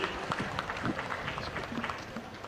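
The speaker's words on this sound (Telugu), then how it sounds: "గట్టిగా చప్పట్లు కొట్టి అభినందించండి." Applause at a government review meeting led by Andhra Pradesh Chief Minister Chandrababu Naidu, with dense, steady clapping that holds for the whole stretch, mixed with crowd noise and some murmured voices underneath.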